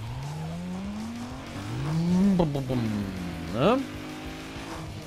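A car in Need for Speed Underground 2 drives and drifts with a steady engine drone, rising revs and a swooping tire squeal, while a person talks over the game sound.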